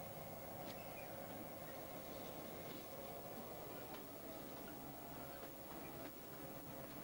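Steady rumble of rail wagons rolling over points in a rail yard, with faint rhythmic clicks and clacks as wheels cross track joints, continuous and moderately distant.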